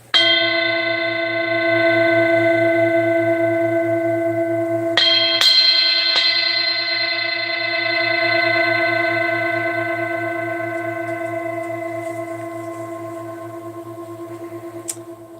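A large antique hammered singing bowl is struck and rings with a rich, steady tone, briefly disturbed by a couple of extra touches partway through, then sustains and slowly fades over about fifteen seconds.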